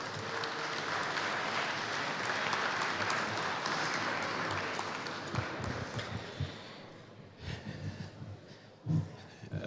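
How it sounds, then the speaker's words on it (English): An audience at a medical marijuana debate applauds in a dense wash of clapping that fades after about six seconds into scattered claps, breaths and shuffling. "I would love for us to just give a round of applause to them."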